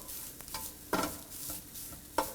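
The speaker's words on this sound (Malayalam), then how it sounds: "നാളികേരം വറുക്കുമ്പോൾ കണ്ടിന്യൂസ് ആയിട്ട് ഇതുപോലെ ഇളക്കിക്കൊണ്ടേയിരിക്കണം." Grated mature coconut roasting over a medium flame in a pan with curry leaves, stirred with a spoon: a few distinct scraping strokes over a soft, steady sizzle, close and fairly quiet, with no voices.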